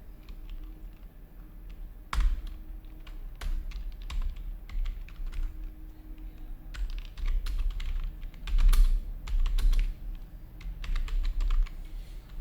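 Keys clatter on a computer keyboard while someone types in WordPad, in irregular runs of close, crisp keystrokes separated by brief pauses, with no voices.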